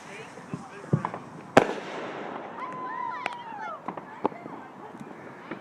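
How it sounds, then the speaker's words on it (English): Fourth of July fireworks going off around the viewer, with sharp bangs and crackles scattered through the clip and a whistling rocket rising in the middle, over steady outdoor background noise. "I'm watching fireworks."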